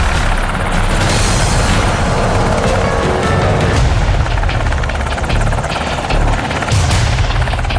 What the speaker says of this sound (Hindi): पाकिस्तान से लगती अफगानिस्तान की सीमा से 4 अमेरिकी हेलीकॉप्टर बेहद खामोशी से उड़ान भर गए।